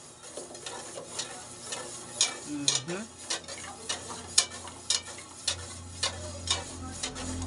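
A jelly mixture stirred into boiling liquid, with soft repeated scraping and clicking strokes of a spoon in a pot over a low bubbling hiss, fairly quiet and close.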